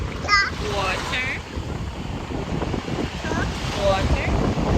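Ocean waves wash up on a beach, a continuous surf roar with gusts of wind buffeting the microphone, while high voices speak and call out briefly over the water.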